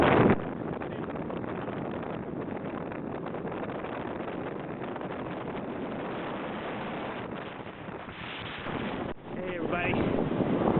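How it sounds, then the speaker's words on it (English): A 23 Ultra Elite motorboat runs at speed on plane with a steady engine drone, heavy wind buffeting the microphone and water rushing past. "We're going to put her up on plane and show you how she goes."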